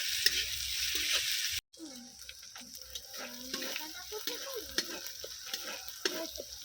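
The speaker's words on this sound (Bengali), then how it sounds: "আদা রসুনটাও আমি খুব ভালো করে কষিয়ে নেব যাতে কাঁচা গন্ধ না থাকে" Ginger-garlic paste sautéing in a pan for a steamed egg dish, a steady close sizzle with scraping stir strokes after a brief dropout, no talking.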